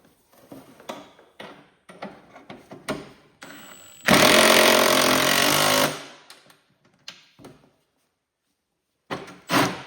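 Bolts at the front of a Cub Cadet 1782 Super Diesel tractor seat are driven tight with a power tool. One loud, steady two-second whir is surrounded by scattered clicks, clanks and handling noises, close up.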